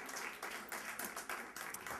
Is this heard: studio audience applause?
yes